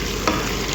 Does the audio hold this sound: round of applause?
no